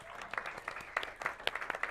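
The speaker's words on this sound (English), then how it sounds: "give yourself a round of applause" A brief burst of applause from a modest gathering at a Kizh community event in El Monte, with quiet, quick overlapping claps and a few sharper individual hits throughout.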